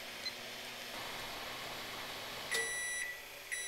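A microwave oven runs off a Power Jack 5000W pure sine inverter, drawing about 1300 watts: a steady broadband hum and whir holds throughout, with a few faint short beeps near the end.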